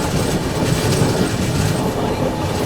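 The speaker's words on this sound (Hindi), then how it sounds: "सोनपुर निकलते ही देखो पूरा टर्न लेती है ट्रेन, उसके बाद पहुंचती है जेपी सेतु।" Rajdhani Express train rolling steadily along the tracks near Sonpur, a continuous loud rumble of wheels and carriages with faint clickety-clack, heard from on board with no voices.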